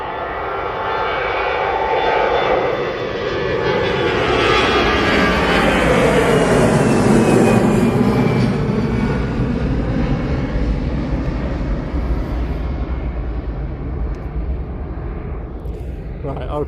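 Emirates A380 airliner at Manchester Airport, a loud roaring engine rumble that swells and shifts pitch as the aircraft moves, with a whining tone sliding downward, close and sustained, while people talk faintly.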